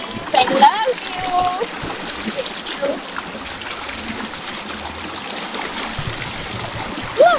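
Water splashes and trickles as girls rinse off while bathing in a village river, with irregular splashes and a steady flowing stream beneath, close by and moderately loud, while voices talk and exclaim over it.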